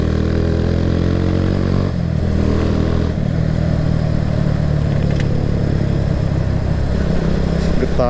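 A Kawasaki W175 SE retro-style motorcycle engine runs close and loud with a steady, smooth low thrum, shifting pitch slightly early on before settling into an even running note.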